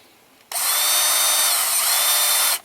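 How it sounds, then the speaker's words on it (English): A power drill whirs loudly and steadily for about two seconds, drilling one screw hole at a time while fitting a power window kit to a 1997 Geo Tracker, starting abruptly and stopping cleanly, close up with no voices. "The reason I'm drilling one at a time"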